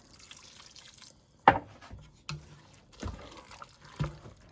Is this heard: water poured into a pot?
yes